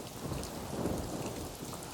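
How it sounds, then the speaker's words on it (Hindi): Heavy rain pours steadily with a low rumble of thunder underneath, a dense continuous wash of sound with no voices. "उसी रात बहुत जोर से बारिश होने लगती है।"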